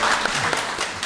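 A church congregation at a Sunday worship service applauds in welcome, a short burst of steady clapping from many hands in a room.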